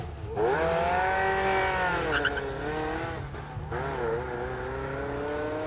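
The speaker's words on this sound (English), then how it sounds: "I'll let you listen to this Ferrari take off." A Ferrari race car launches from a slightly uphill start line at a stage rally, its engine rising loudly through gear changes close by, with brief tyre squeal under the revving.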